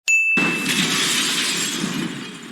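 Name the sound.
glass roof shattering in video game Legend of Spyro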